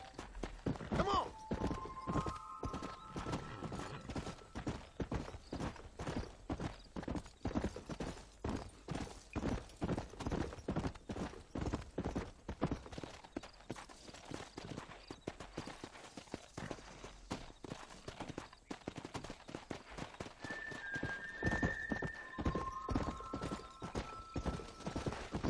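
Horse hooves clip-clop steadily and continuously in the Red Dead Redemption video game, an even trotting beat with faint melodic tones drifting in now and then.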